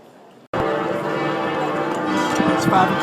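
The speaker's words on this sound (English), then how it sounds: "It's 5 o'clock. That's why the bells are ringing." Church bells in Florence ring out at five o'clock, a full, resonant peal that bursts in abruptly after a quiet moment and continues loudly with layered sustained tones.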